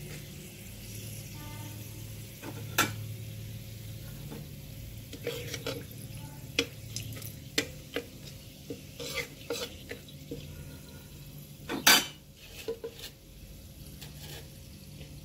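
Bay leaf, cardamom, cinnamon and cloves frying in hot oil, a faint continuous sizzle broken by sharp clinks and scrapes of a spoon stirring the pan.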